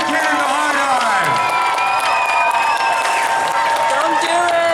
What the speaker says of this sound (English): a massive Arizona State Fair round of applause